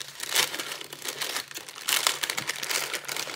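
A plastic pouch of scrapbooking supplies is opened by hand, giving close, soft crinkling and rustling of packaging in several bursts with brief pauses.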